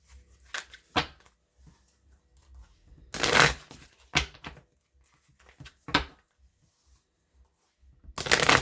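Energy Oracle cards are shuffled in quick, crisp riffling bursts separated by short pauses, close and clear, with a longer burst midway and another at the end.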